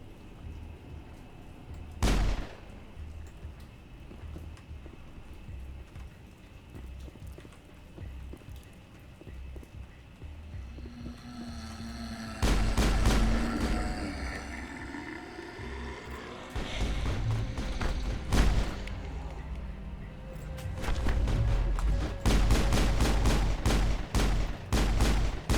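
Squadmates firing guns in the video game Mass Effect, with bursts of rapid, crackling shots that come in clusters, grow denser and louder toward the end, and sit over a low ambient hum.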